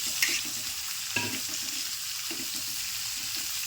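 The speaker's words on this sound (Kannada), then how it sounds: "ನಾನು ಚಾಕುಲಿಂತ ತಿರುಗಲಗತ್ತೀನಿ ನೋಡ್ರಿ" Onions fry on a flat iron griddle as a spatula stirs them, producing a bright steady sizzle with a few scraping strokes, heard close with no speech.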